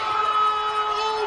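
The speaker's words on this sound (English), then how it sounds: "And the crowd is going wild here" A soccer crowd roars and cheers after a late stoppage-time goal, a dense, steady wall of voices with tonal shouts running through it for about a second.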